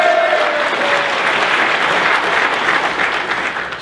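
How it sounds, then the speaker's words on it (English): A banquet crowd at a wrestling hall of fame honors dinner applauds in a thick, loud, continuous roar of clapping, steady throughout and tapering slightly at the close. "We'll give him a double round of applause."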